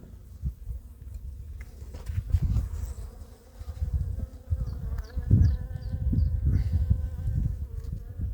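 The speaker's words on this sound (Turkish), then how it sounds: "Ama bu arı yavru atacak artık havalar iyi." Honeybees buzzing steadily at a hive during autumn colony inspection, a close, continuous insect drone with shifting intensity and no talk.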